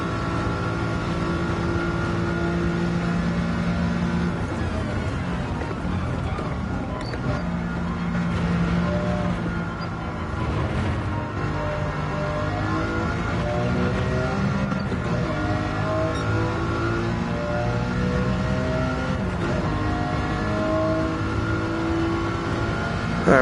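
A race car in Gran Turismo 7 climbs through its revs toward a rev limiter near 9,800 rpm, a sustained loud engine drone with rising and falling pitch sweeps across repeated gear changes, steady throughout with no talking.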